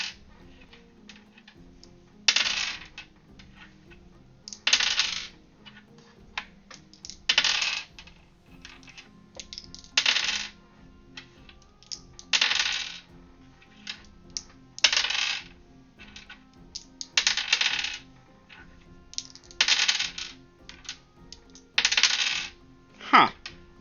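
Dice rattle in an online tabletop role-playing game, short clattering bursts repeating roughly every two to three seconds over a faint background, with no voices.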